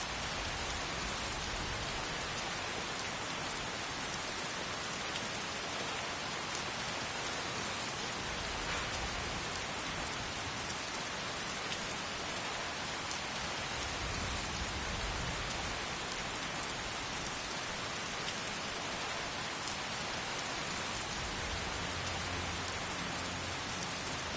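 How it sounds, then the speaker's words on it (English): Steady, fairly quiet rainfall in Skyrim hisses continuously, an even wash of drops with no break. "Rain just goes on and on. It does not want to end."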